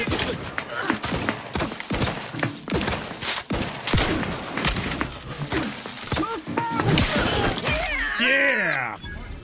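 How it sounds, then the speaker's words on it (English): A loud explosive blast in the video game The Outer Worlds 2, amid dense combat noise with repeated sharp bangs and crashes over several seconds, with a voice heard near the end. "Oh, that was the explosive I set off."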